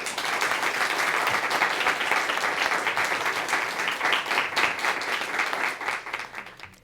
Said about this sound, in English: Let's have a round of applause for all of our high schools.